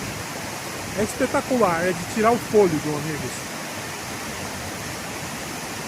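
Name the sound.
waterfall, Cachoeira da Torre in the Serra do Mar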